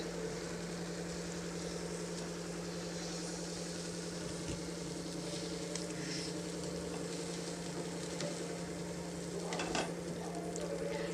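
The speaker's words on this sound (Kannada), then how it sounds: "ಇದನ್ನು ಚೆನ್ನಾಗಿ ಕುದಿಸ್ಕೊಳ್ತೀನಿ ನಾನು ಸ್ಟವನ್ನು ಮೀಡಿಯಮ್ ಫ್ಲೇಮಲ್ಲಿ ಇಟ್ಟಿದ್ದೀನಿ" Carrot halwa cooks in milk on a stove set to medium flame, a soft, steady simmer and faint sizzle over a constant low hum, with no talking.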